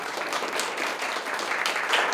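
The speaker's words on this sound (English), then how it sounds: "shall we give her a big round of applause?" Sustained audience applause in a lecture hall after a talk by a presenter, a steady wash of many hands clapping at even loudness with no voices over it.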